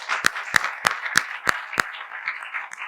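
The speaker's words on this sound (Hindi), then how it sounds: "ताली बजाओ" An audience at a class program claps in a slow, even rhythm: six sharp, loud claps in unison about a third of a second apart, then scattered softer clapping trailing off.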